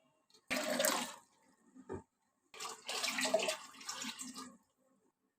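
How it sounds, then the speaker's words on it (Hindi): Water pours from a bottle into a pot of kadhi in two splashy bursts, a short gurgle first, then a longer steady glug and splash after a brief pause, close and fairly loud. "चलिए पानी डाल देते हैं बकाया।"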